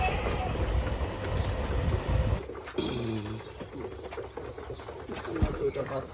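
Domestic pigeons coo in a pigeon farm coop, soft low calls rising above steady loud background clatter and rumble, with a voice talking over part of it.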